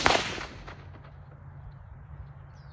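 A single sharp crack from a Savage rifle fitted with a 3x9 Weaver scope, loud and close at the very start, then a fading outdoor echo and quiet background without speech.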